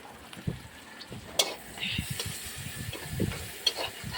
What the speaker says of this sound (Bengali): তেলের মধ্যে পেঁয়াজ কাঁচামরিচ দিয়ে দিলাম।